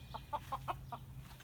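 Frizzle cochin chickens clucking: a quick run of five soft, close clucks followed by fainter ones, with a low hum in the background.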